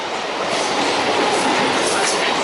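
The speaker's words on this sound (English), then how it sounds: "There's another train passing by." A Mumbai suburban train rumbles past close by, its loud, steady roar of wheels and carriages filling the whole stretch without any break or voices.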